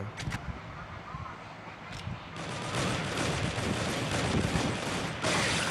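Gunfire crackles in the Chinese FPS game Crisis Action, with a few short bursts early on and then dense continuous automatic fire and explosions, loud and close, with a voice talking over it.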